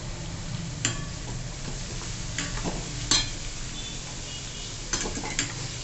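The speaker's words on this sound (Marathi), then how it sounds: "आता कांदा चांगला छान परतवून घ्यायचा." Finely chopped onion sautéing in a pan for shev bhaji, a steady gentle sizzle under occasional clinks and scrapes of a spatula against the metal, no voices.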